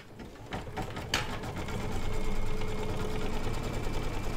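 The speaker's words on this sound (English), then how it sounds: "let's stitch this baby down and then we'll get to the business of trimming" An Anita Goodesign embroidery machine stitches down appliqué fabric, a steady, close mechanical whirring hum of rapid needle strokes that builds after a few light clicks at the start and runs evenly to the end.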